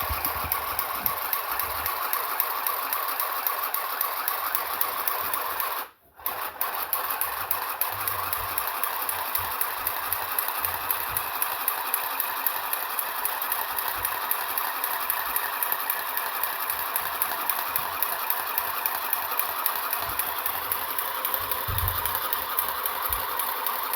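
An electric hand sewing machine stitching a ceiling hem in fabric gives a steady, close, continuous mechanical whir with a fast stitching rhythm throughout. It briefly cuts out for an instant partway through, then resumes.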